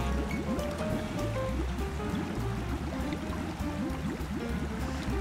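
Continuous cartoon-style rushing water of a river pouring over a waterfall, a dense, steady, bubbling wash with gurgling tones layered through it, moderately loud and unbroken across the whole stretch with no voices.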